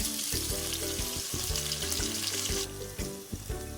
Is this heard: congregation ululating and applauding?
no